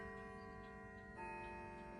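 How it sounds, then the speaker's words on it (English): A household clock ticks steadily in a quiet room decorated for Christmas, a faint even tick-tock over a constant electrical hum, with a brighter tone joining partway through. "I love when her clock goes off too."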